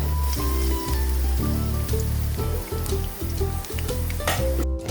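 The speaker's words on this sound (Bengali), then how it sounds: "এখন কড়াইতে পেঁয়াজ দিয়ে দিলাম।" Onions hit hot oil in a wok and sizzle loudly and close, a broad hissing crackle with scattered pops and clinks over five seconds, no voices.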